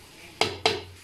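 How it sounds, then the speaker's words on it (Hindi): A spoon stirs potato, peas and rice in a pot for aloo matar pulao, giving two distinct scraping clinks against the metal over a quiet background. "अच्छा से चम्मच ला लेंगे, अच्छा से मिक्स कर लेंगे इसको"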